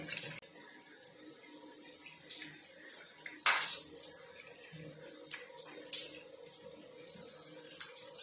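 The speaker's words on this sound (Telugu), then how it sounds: "2 times కడిగానా, 2 times కడిగాను, చూసారుగా." Water splashes in repeated close bursts as a face is washed by hand, one louder splash standing out among softer trickles and drips, with no talk over it.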